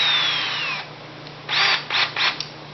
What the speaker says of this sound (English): So I'm going to drill them real quick.